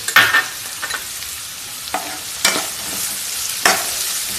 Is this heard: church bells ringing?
no